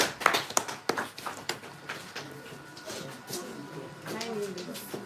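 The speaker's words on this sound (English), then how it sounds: "A round of applause." A school audience claps in a brief, scattered burst of sharp, fairly close hand claps that fade quickly, followed by faint talking.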